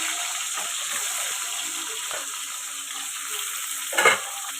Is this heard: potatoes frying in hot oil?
yes